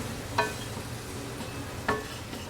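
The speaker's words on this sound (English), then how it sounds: "we are going to cook this with the sausage until we can't see any more white" Flour cooking in a pan with sausage, with two short spatula scrapes about a second and a half apart over a low, steady background and only faint sizzle.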